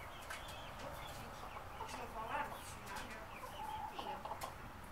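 Buff Orpington and Easter Egger hens clucking and murmuring in a poultry coop beside a greenhouse, a steady low chorus of soft clucks with a few sharper calls, close and continuous.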